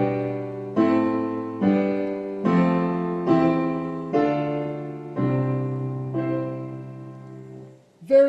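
Piano stepping down a 1-7-6-5-4-3-2 progression and returning to 1, each chord struck once and left to ring for under a second in an even, unhurried descent, close and clear with no talking.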